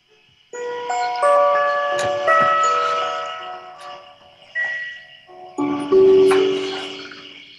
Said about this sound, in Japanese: 親指ピアノという楽器があるんですね